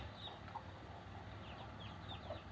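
Mother hen clucking softly while leading a brood of ducklings as they forage, a few faint scattered clucks and chirps over a steady low background hum.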